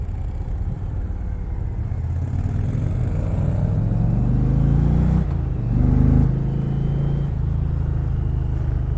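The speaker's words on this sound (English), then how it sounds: "Stock exhaust on a thundering V-twin of this bike." A 2020 Indian Challenger Dark Horse motorcycle with a stock exhaust rumbles through its V-twin engine, heard up close as a low steady drone that rises through gears, briefly swelling louder with a shift before settling.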